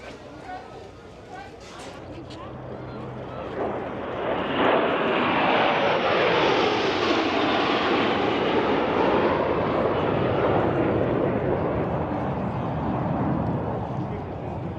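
Airplane engines roaring at the Oshkosh airshow near a large cargo plane, building from a distant hum to a loud, sustained sweeping drone that fills most of the clip.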